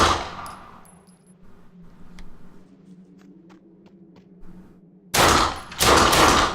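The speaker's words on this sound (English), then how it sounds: "my shooting's a bit off today" Gunfire from the Fallen Earth video game: a short burst near the start, quiet clanks and taps in the middle, then two loud, dense bursts of rapid shots at the end.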